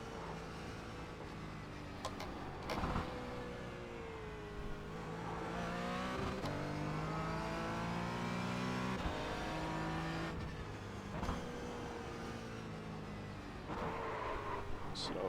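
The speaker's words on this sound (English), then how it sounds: "Definitely pushing the car faster through there than normal." A race car engine drones steadily at Bathurst in a racing video game, its pitch rising and falling with throttle changes through corners. The note stays loud and continuous throughout, with a few sharper bursts along the way.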